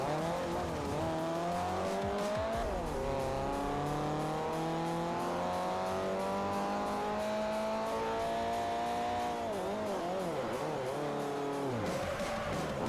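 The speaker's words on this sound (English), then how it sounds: "I think I just felt the brakes lock up there" A car in the racing game Forza Motorsport 4 with ABS off: a sustained engine drone with tyres squealing and skidding under hard braking, the pitch sweeping down and back up, loud and continuous.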